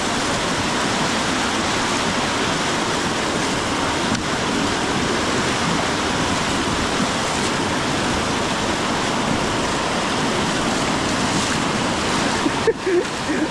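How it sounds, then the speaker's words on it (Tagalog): A strong, fast river current rushes steadily and loudly, a dense wash of turbulent water that never lets up for the whole stretch, with no voices over it. "Yung lakas ng agos na, lumalakas."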